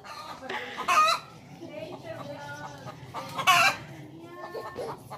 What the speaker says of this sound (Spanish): ¿Y ustedes habían visto una gallina arriba?